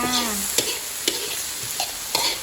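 Long beans stir-fried with shrimp paste in a Thai home kitchen, a steady close sizzle with a spatula scraping and clanking against the pan every half second or so, no talk.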